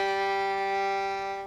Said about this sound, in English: If I play an open string, it sounds like this.